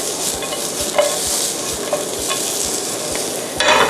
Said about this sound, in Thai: นี่ใช้ไฟแรง ผัดเลย